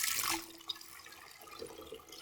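Water is poured into a glass prism during a science demonstration, heard as a short, quiet splashing trickle that fades into soft liquid movement, with no talking.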